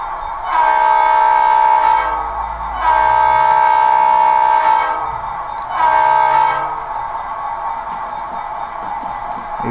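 Three loud horn blasts from an SD70MAC model locomotive's DCC sound decoder, played through two sugar cube speakers, one behind the cab and one at the rear; the second blast is longest and the third short, with a low hum between.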